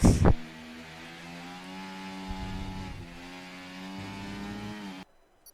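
At a race start in the F1 24 video game, on the Belgian circuit, several car engines drone together with steady, rising harmonic pitch for about five seconds, then cut off abruptly. A brief sharp noise sounds at the very beginning.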